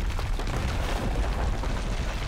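Explosion in the video game Resident Evil VII, a dense, continuous low rumble with broadband noise holding steady throughout, loud and alone without talk.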